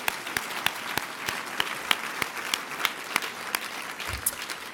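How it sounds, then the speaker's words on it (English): Guests at an annual awards dinner clap again for the award winners, a lively mix of many hands with sharp individual claps popping out in a fairly regular rhythm. "Can we get another round of applause?"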